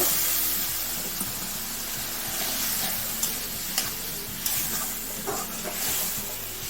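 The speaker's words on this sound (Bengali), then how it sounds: "অল্প করে জল দিয়ে ভালো করে মশলাটা কষিয়ে নেব।" A masala paste stir-fried with a splash of water in a pan sizzles and hisses steadily, while a spoon scrapes and clicks through it in uneven strokes, close and fairly loud.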